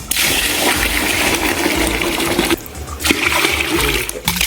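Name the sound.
water poured onto ground rice flour to soak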